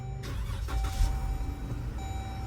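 A car with an intermittent no-start problem cranks and fires right after the ignition is cycled, then settles into a steady low engine rumble, close by with no talking.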